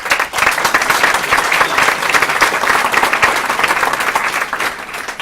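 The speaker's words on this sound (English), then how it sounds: "Can we clap Mitchell, please?" A meeting audience at the Australian Institute of Management applauds Mitchell, with dense steady clapping filling the room loudly and evenly throughout, easing only slightly at the end.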